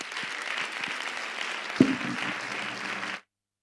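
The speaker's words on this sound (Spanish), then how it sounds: "E o aplauso final vai ser noso desde arriba para todos vos e todas vos por acompañarnos." Closing applause from an audience at a Galician-language talk on foreign correspondence, a steady dense wash of clapping for about three seconds with a brief louder thump near the middle, then cutting to silence.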